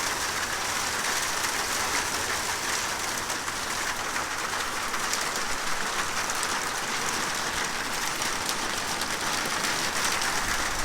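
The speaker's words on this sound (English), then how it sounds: "But this is hail." Small hail falling in a thunderstorm, a dense, steady hiss of pellets drumming on a roof and ground, unbroken and even for the whole stretch.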